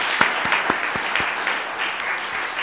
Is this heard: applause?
yes